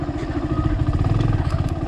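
Motorcycle on a basic riding course training ground, engine running with a steady mid-pitched pulsing putter and light clatter, close by.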